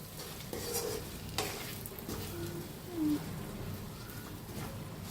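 Salt is stirred into stuffed brinjal masala in a pan, giving a faint, soft sizzle with light scraping stirs and a few brief clinks. No voices are heard.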